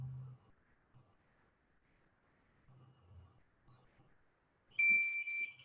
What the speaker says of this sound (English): the bar turns red and there are 5 beeps that ensure that someone with fever is there